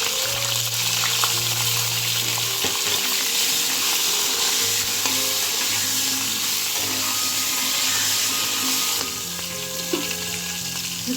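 Pointed gourd (potol) fries in oil with salt and turmeric, a steady loud sizzle with occasional stirring clatter and a low background hum throughout.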